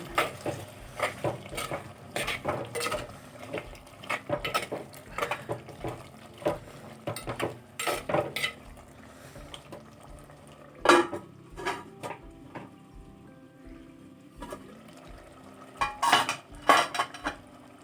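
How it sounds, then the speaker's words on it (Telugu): Tomatoes going into a clay pot of chicken biryani, with clattering metal spoon and pot sounds, stirring and scraping in irregular bursts, close and fairly loud with a faint sizzle underneath. "వేస్తున్నానండి ఇక టమాటాలు ఓకే"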